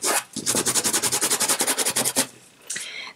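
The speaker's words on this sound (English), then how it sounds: "Going to wipe off the excess ink from my stencil." Rapid scrubbing strokes wiping excess ink off a stencil, a quick close burst of rhythmic rubbing that stops, then a short brushing swipe after a pause.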